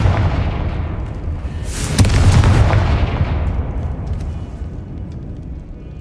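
A Confringo blasting spell from the Hogwarts Legacy video game, a loud deep boom that swells and then rolls away in a long rumbling decay, with no voices.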